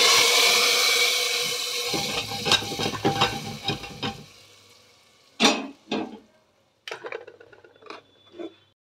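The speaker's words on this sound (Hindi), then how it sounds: "तड़का बना लेते हैं।" Spices for a tadka for dal gosht sizzle loudly in hot oil for several seconds, the hiss fading as a spoon scrapes and clatters against the pan, followed by a few separate clinks of stirring.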